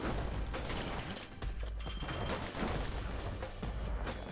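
Rapid bursts of gunfire and bullet impacts from the video game Bastion crackle almost continuously, dense and loud, with layered shots and booms and no voices.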